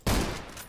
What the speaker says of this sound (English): I can hear gunfire over there.